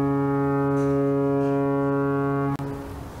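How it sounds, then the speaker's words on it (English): A lighthouse foghorn sounds one long, loud, steady deep blast that holds for about two and a half seconds, then cuts off abruptly, leaving a faint hiss of surroundings behind it. "The foghorn blew."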